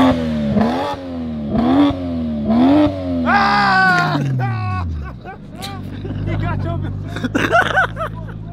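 A Dodge Hellcat's V8 revs in repeated rising pulls, three climbing sweeps followed by a longer high scream that falls off, loud and close, with people talking and shouting around it.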